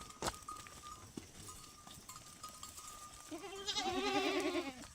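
Goats moving along a path toward a green forest, with repeated bleats and a soft clanking like cowbells close by, plus a few hoof sounds under the animal calls.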